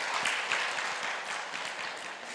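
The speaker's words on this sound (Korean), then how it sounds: "박수를 한번 쳐주시죠." An audience at a church faith concert in Oregon claps together, a dense, steady patter of many hands filling the room without pause.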